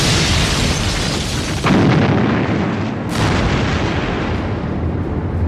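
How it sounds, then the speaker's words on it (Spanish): Explosions from a WWII convoy at sea, with torpedoes striking ships, produce a continuous loud rumbling din with a heavy boom near the middle and another sharp blast a little later. "Y explosiones"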